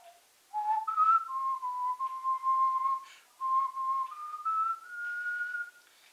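A person whistles a song melody solo, with clear sustained pure notes gliding between pitches in phrased runs and short breaths between them.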